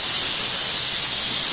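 Ghee heating in a pan before paneer pieces go in, giving a steady, loud, broadband sizzle and hiss that holds evenly throughout with no talking.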